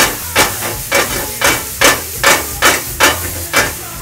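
Omurice ingredients, including buna-shimeji mushrooms and edamame, stirred in a very hot pan, giving eight evenly spaced scraping, hissing strokes about half a second apart, close and fairly loud.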